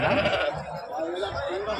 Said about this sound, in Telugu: సో గొర్రెలు అయితే ఉన్నాయి పిల్లలు ఏం లేవు దీంట్లో